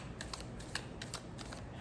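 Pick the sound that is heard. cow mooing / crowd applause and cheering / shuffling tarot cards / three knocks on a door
shuffling tarot cards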